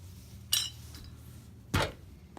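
Two short, sharp scraping knocks from a V-cut carving tool working around a ripe fruit, spaced about a second apart over a low background hum, close and moderately loud.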